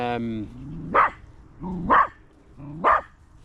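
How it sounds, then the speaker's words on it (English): A dog barks three times at a steady pace, each bark close and sharp, following a brief voice at the start. "There's no need for all that barking."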